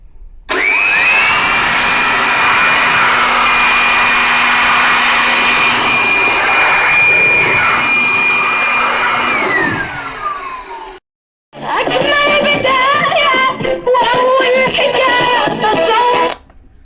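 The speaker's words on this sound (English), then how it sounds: "And now I'll remove any excess solution with the blower." Air blower drives excess cleaning solution off a Panasonic radio cassette recorder: a loud, steady whining rush of air for about ten seconds that winds down, then after a short gap a second, rougher blowing burst.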